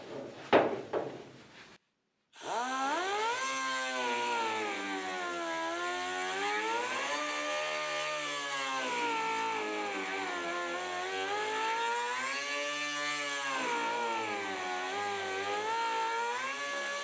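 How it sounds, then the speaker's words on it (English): A rotary file grinds steadily to enlarge a hole, producing a continuous whining buzz with wavering pitch that rises and falls for about fifteen seconds, following a brief clatter and a short silence. "take the rotary file and just open that hole up a little bit"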